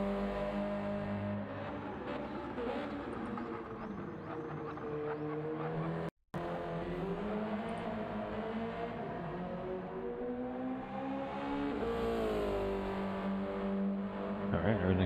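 Race car lapping a track in a racing video game, a continuous loud engine drone with rising and falling pitch through gear changes, with a short dropout midway and a speaking voice over it.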